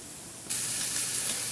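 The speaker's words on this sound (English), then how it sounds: "I'm putting these in, and I'm just going to fry them up" Sausages dropped into a hot frying pan burst into loud sizzling after a brief quiet moment, then keep up a steady, close hiss and crackle of fat frying.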